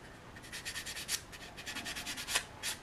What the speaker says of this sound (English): Come in with my 320 and sand away.